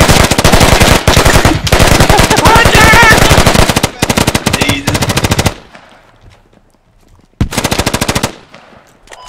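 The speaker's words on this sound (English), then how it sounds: "Let's see how excited everyone in the room gets if I start firing shots in the hallways." Gunfire in hallways in the tactical shooter game Squad: rapid, loud automatic bursts close by, then a short near-silent pause before one more burst.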